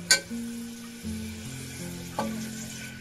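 Curry leaves dropped into a hot pan on a gas stove crackle and sizzle, with a sharp burst at the start and another pop partway through over a steady frying hiss.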